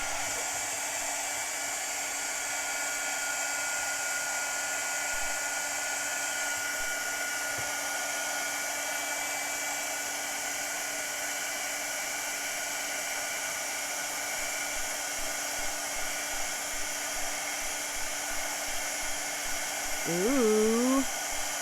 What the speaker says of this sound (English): Let's grab our embossing gun.